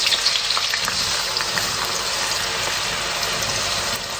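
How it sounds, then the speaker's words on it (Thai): Mung beans hit bubbling hot oil for deep frying, giving a dense, continuous loud sizzle that holds steady throughout. "เราก็จะใส่ ลงไปทอดเลยค่ะ"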